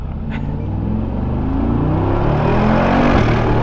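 Turbos on a Brabus 900HP pickup truck spool up under hard acceleration, a loud rising whir over a heavy engine rumble that builds steadily and continuously.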